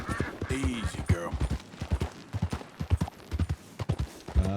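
Horse hooves clip-clop in an uneven, steady run of sharp knocks from a skittish mare in Red Dead Redemption 2, fairly close and alone, with no talk over them.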